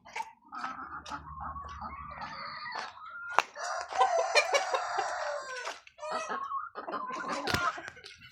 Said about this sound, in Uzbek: Xo'rozlarni ham qarang.